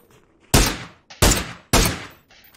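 Three loud, close gunshots crack out in PUBG gameplay, evenly spaced about half a second apart, each with a short decaying tail.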